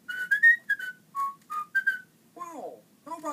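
A person whistles a short, bouncy run of separate notes, close and clear, followed by a brief spoken exclamation.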